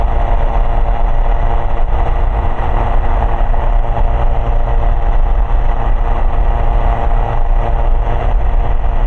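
Light aircraft engine at high RPM in flight, a loud unbroken drone filling the whole stretch with a steady low rumble and no speech.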